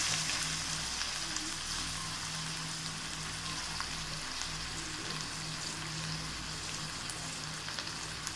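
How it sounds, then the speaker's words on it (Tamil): Chicken pieces frying in hot oil in a pan for Tamil-style chicken kuzhambu, added over softened tomatoes, with a steady, even sizzle and crackle running unbroken from start to finish, close and moderately loud. "இது நல்லா எண்ணெயில் பரட்டி விடுங்க."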